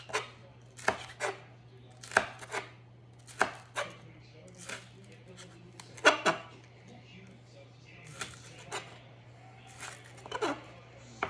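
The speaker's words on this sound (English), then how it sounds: "Let's cut some green onions." Green onions chopped with a knife on a board for pork lettuce wraps, sharp close knocks in short uneven bursts with pauses, over a low steady hum.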